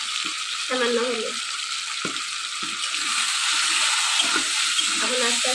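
Potatoes fry in oil with cumin and salt, a constant bright hissing sizzle with occasional spits, while voices talk intermittently underneath.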